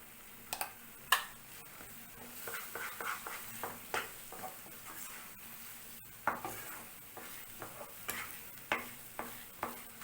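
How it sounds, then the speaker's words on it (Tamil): A spoon scrapes and stirs thickening rusk halwa in a pan with cardamom powder added, giving irregular clicks and scrapes over a faint sizzle, fairly quiet and without talk. "இப்போ ரொம்ப நேரமாக கிளறிட்டு இருந்தேன்"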